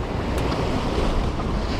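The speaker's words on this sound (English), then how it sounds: "Let these waves come up first." Ocean waves wash and roar against giant boulders along the shore, a loud, close, continuous surge with wind buffeting the microphone.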